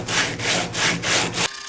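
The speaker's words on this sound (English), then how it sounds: "So I start sanding." Sandpaper rubbed by hand against glue-stuck material in four steady back-and-forth strokes, a close, loud, gritty scraping with a brief pause between passes and a quiet tail at the end.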